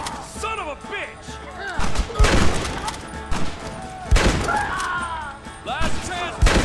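Gunfire in the PS3 game Red Dead Redemption: loud, repeated bursts of shots and booming impacts, mixed with shouting game voices and action noise.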